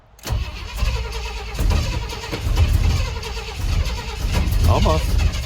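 An old vehicle's engine cranks repeatedly and tries to catch on the ignition key, with uneven churning and brief revs close by while a person talks over it.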